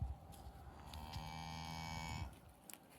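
A baby cow moos once in a long, drawn-out call lasting over a second, close and clear on a quiet farm with faint background noise.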